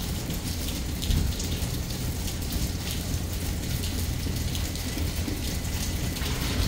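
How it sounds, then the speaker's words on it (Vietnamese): Steady spring rain falls outdoors, a continuous dense patter on surfaces at even loudness without pause, with no voices. "Còn hôm nay trời mưa á, nên ra đây ngồi chờ."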